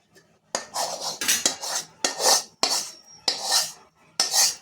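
Roasted ragi flour is scraped from a kadhai onto a plate: a series of loud metallic spoon scrapes and clinks against the pan in uneven bursts with short silent gaps, close and with no speech.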